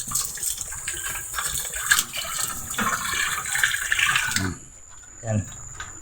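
River water flows in a steady broadband rush that stops abruptly after about four and a half seconds, with a voice talking over it.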